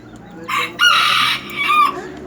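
A newly acquired rooster crows loudly and close by at a chicken ranch in Tijuana, in two strong bursts with a short break between them.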